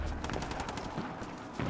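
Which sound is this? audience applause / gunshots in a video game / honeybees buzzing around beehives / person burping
gunshots in a video game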